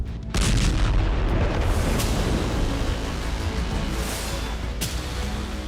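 Anti-ship ballistic missiles strike dummy targets with a heavy boom, followed by continuous rumbling blasts and sharper cracks that roll on without a break.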